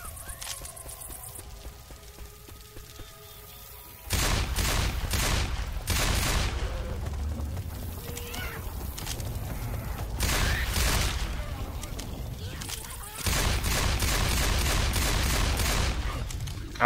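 Gunfire in the Left 4 Dead 2 Hard Rain campaign: after a quiet opening, loud bursts of rapid automatic and repeated shots come in clusters, with brief lulls between them.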